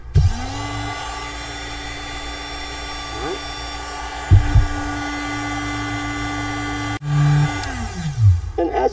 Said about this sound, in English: this is a 120 volt rotary tool like a Dremel, and it's a universal motor